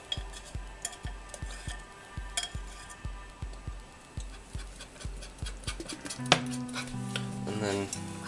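A spoon stirring ingredients into a thick vegan pepper jack cheese mixture in a pot, with quick, regular knocks and scrapes against the pot's side and a brief clink of metal near the end.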